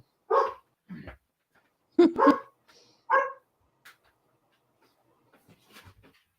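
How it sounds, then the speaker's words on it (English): A pet dog barks at someone at the door indoors, giving a few loud, close barks in short bursts, including a quick double bark, separated by pauses and trailing off into faint sounds. "my dog just goes crazy for no reason. I think somebody's at the door."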